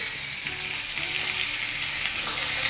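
Butter sizzling in a hot pan just taken off the heat, alongside rosemary, producing a continuous, even, fairly loud frying hiss with no pauses and no talk.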